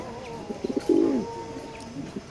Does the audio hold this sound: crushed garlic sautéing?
no